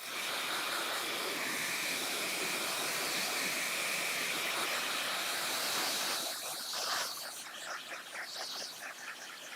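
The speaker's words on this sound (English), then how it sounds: "And blow dryer." A steady broadband hiss of blowing air, constant for several seconds before easing and becoming slightly uneven near the end.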